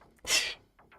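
One sharp, explosive sneeze close by, followed by a couple of soft breaths.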